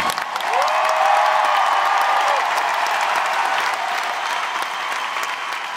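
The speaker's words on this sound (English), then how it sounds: "A big round of applause for my band." A concert crowd at a show in Cleveland, Ohio, applauding the band, a dense sustained wash of clapping with some cheering that holds steady and tapers slightly toward the end.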